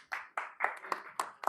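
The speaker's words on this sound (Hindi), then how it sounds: "तो जोड़ा तालियां हो जाए" A small group claps in short, uneven bursts, several sharp clusters of hands in quick succession at a training session on cow-product goods, fairly close and moderately loud.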